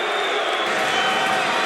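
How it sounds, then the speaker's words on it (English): A loud, dense crowd roars and cheers continuously at a college basketball game between Wright State and Youngstown State, a sustained wash of noise filling the arena. "This crowd is alive"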